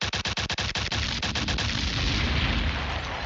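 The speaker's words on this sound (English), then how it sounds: "Drop a bomb on them, Sparks." A DJ bomb sound effect played at a UK dancehall clash event: a rapid train of loud gunshot-like blasts gives way to a long, roaring explosion that slowly fades, with no voices over it.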